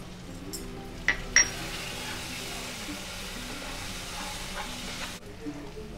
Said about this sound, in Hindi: जब तक ये मसाला अच्छे से फ्राई हो रहा है